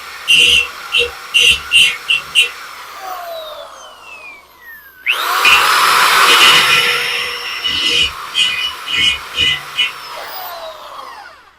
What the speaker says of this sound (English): I am going to have to grind a little bit of this support